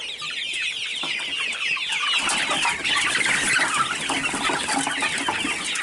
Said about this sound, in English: here's all of my birds eating